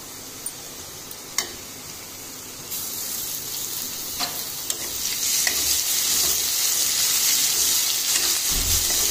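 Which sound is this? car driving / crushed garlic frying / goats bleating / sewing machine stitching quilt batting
crushed garlic frying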